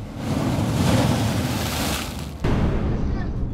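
Ocean waves surge and churn at sea during a typhoon, a loud continuous roar of water and wind buffeting the microphone, with a sudden heavier swell near the end.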